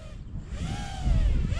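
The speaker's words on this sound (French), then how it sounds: "Il y a beaucoup de vent." Strong wind buffets the microphone outdoors in a deep, rough rumble that swells near the end, with the thin whine of an Eachine Wizard X220S racing drone rising and falling above it.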